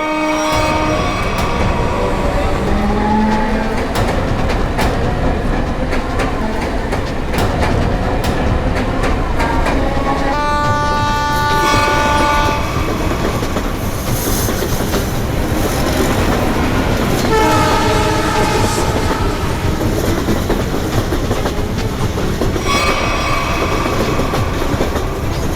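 A train passes close by with loud rolling clatter and rail noise, its horn sounding in sustained tonal blasts several times over the steady rumble of the wagons.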